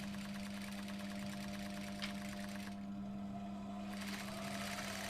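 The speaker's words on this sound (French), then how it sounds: "Voilà, on passe à la couture." Sewing machine stitching fabric for a nightdress boxer set, a steady continuous mechanical whir with a constant low hum running throughout, close and even.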